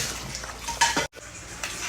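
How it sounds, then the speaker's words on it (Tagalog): A spoon stirs glutinous rice with coconut milk in a pot, producing soft scraping and a few clinks against the metal, fairly quiet and close, with a brief pause in the middle. "Halo-halo lang tayo. Yan, mix well lang."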